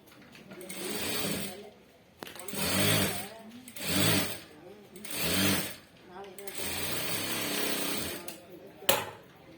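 A sewing machine stitches a blouse in several close bursts of rapid, whirring stitches, with brief pauses between runs and a sharp click near the end, and a faint voice may sit underneath.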